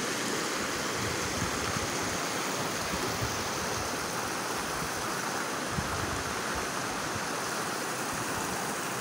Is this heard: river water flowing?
yes